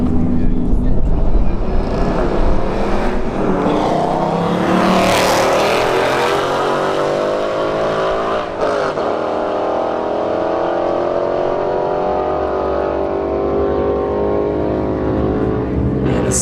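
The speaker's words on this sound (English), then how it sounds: "Alright, S550 Mustang in the left lane. The Stelvio Quadrifoglio in the right lane." S550 Ford Mustang and Alfa Romeo Stelvio Quadrifoglio drag racing side by side at Bradenton Motorsports Park Street Heat, loud engines roaring and rising in pitch through gear changes for the whole run, with a pass-by swell midway and a crowd voice under it.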